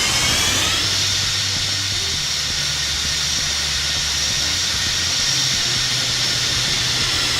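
Boeing 747-200 jet engines in a flight simulator, a loud steady broadband roar with a high whine, continuous and even for the whole stretch, with no voices.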